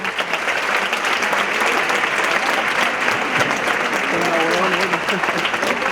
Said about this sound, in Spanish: Fuerte el aplauso para Odín Dupeirón